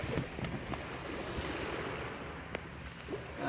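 Sea waves slapping around a boat near Gelok Island off Pulau Bidong, a continuous washing rush with wind noise and a few small splashes and knocks.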